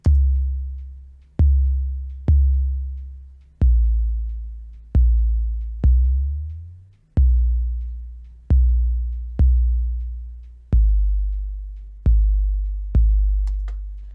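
Deep electronic kick drum hits thump alone in a steady beat, each one a booming low thud that decays slowly.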